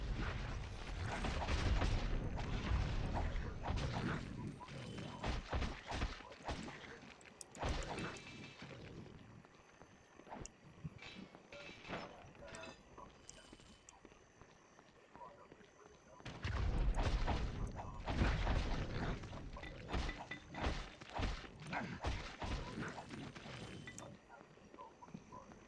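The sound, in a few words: enemy grenade explosions in video game Baldur's Gate Dark Alliance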